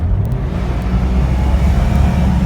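A 2002 Jeep Wrangler Sahara 4x4's loud engine rumbles low and steady close by, the motor held at a sustained rev with no voices.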